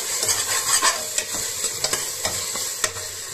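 A spoon stirs spices into fish pulao in a hot pan, scraping strokes over a constant frying sizzle, with sharper clinks of metal against the pan at irregular moments.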